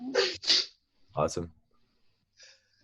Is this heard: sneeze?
yes